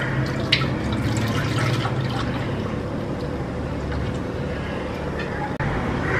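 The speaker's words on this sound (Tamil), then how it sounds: "நம்ம வந்து இந்த மாதிரி அரைச்சி வச்ச இந்த மாவு தண்ணியை வந்து நம்ம இதில் வந்து விட்டுடலாம்." Ground rice batter pours into a pan in a home kitchen, a steady liquid drip and splash filling the clip over low background noise.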